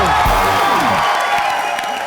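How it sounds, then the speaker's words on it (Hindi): Loud, dense audience applause and cheering at a live Hindi comedy stage show, a continuous wash of clapping with whoops that fills the whole stretch without a break. "जोरदार तालियां हो जाए."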